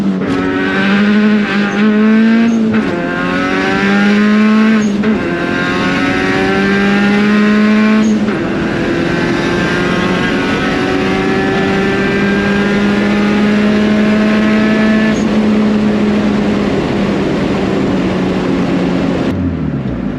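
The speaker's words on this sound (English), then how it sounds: "You're in a race car." A race car engine roars and revs continuously during a ride-along, its pitch climbing through repeated gear shifts, loud and close.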